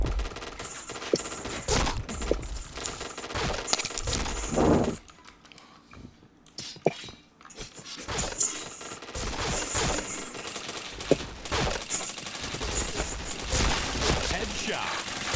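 Bursts of rapid gunfire in a first-person shooter game crackle in clustered volleys with a brief lull midway, some faint voices mixed in.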